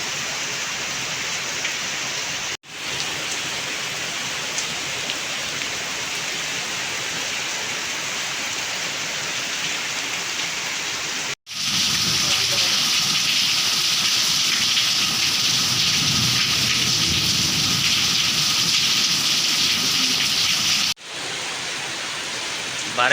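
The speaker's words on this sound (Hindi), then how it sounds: "तो आज जो बारिश हो रही है तो ये बहुत तेज़ बारिश हो रही है।" Heavy rain pours down in Lahore as a dense, steady roar, loud and close, filling the whole stretch; it swells noticeably heavier partway through, with a few abrupt cuts in between.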